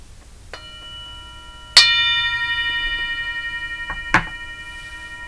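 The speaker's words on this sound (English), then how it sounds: "I'm going to ring the bell." A small bell is struck twice, each strike ringing out with a clear, sustained metallic tone that slowly fades, with a softer tap between.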